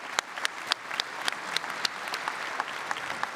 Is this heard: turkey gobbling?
no